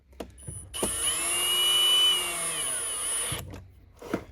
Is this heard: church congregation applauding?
no